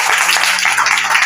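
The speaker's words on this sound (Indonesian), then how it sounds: "Tepuk tangan buat Tuhan." A church congregation at a GBI service claps together in a fast, dense, continuous patter, loud and close, with no voices over it.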